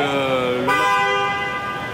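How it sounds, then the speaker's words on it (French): Several car horns blare together in a sustained, layered honk aboard a ferry deck, set off by the ship's vibrations, one tone shifting partway through as they keep sounding nearby. "Vous avez toutes les voitures qui se mettent à klaxonner comme ça."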